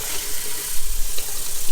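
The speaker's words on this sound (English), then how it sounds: "I'm just gonna rinse them in some cold water." Loud, steady rush of cold tap water running over freshly boiled eggs in a kitchen sink, with hissy spray and slight splashing fluctuations throughout.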